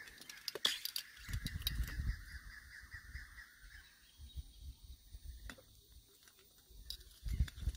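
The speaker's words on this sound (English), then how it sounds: "Laughing thrushes, I think." Laughing thrushes calling in the forest of Khao Yai in elephant country: a chattering, harsh run of bird calls over the first few seconds, with more scattered calls later, fairly distant against faint rustling.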